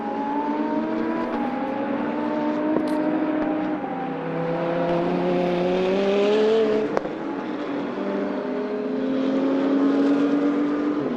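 A Porsche GT2 race car at Paul Ricard, its engine a steady high-revving drone with pitch rising and dipping through gear changes, loud and continuous without pause.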